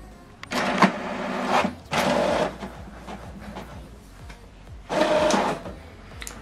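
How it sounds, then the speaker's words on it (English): An HP DeskJet 2800 inkjet printer runs a double-sided print job, giving bursts of mechanical whirring and feed noise separated by quieter, softer movement and clicks, fairly close and with no talking. "Document is printing."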